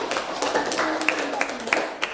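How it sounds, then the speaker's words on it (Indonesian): A classroom claps for university students after their group presentation on micrometers and calipers. Brief, steady applause runs under a voice that keeps talking. "tepuk tangan dulu untuk mahasiswa"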